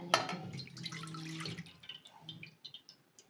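Strained fennel water poured into a kadai, a short splashing pour at first followed by scattered drips and small trickles tapering off, close and fairly quiet.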